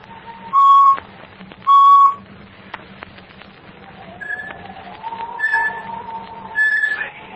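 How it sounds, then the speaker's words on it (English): Low whistle signal in a radio drama, two short clear whistled notes in quick succession, followed by quieter background tones and faint murmuring. "It's a low whistle, repeated 2 times."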